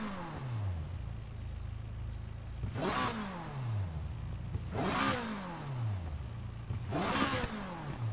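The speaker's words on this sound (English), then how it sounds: "Listen to that supercharger." A supercharged car in Need for Speed Heat revs up through gears repeatedly, engine pitch climbing and dropping in three rising sweeps with supercharger whine, loud and close with no talking.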